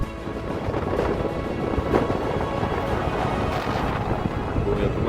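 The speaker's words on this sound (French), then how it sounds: "il y a pas mal de vent" Strong wind on the pre-dawn ascent of Mount Etna roars across the microphone in a steady, loud, rumbling blast that lasts throughout, with no one speaking.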